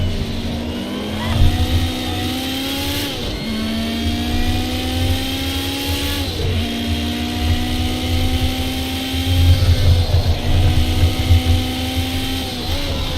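A car engine revs hard under full throttle in a racing video game, rising in pitch through each gear and dropping sharply at upshifts about every three seconds, loud and continuous with no talk.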